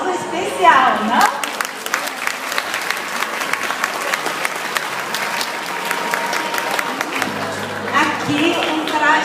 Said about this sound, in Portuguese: A menininha merece um aplauso especial, não?